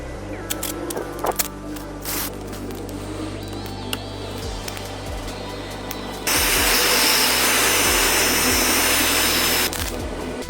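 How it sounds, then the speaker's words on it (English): A handheld disc cutter scores a circular groove into a tile surface, its high whining grind rising sharply midway and holding loud and continuous, with scattered clicks and taps before it starts. "A worker uses a disc cutter to trace a circular groove into the tile surface"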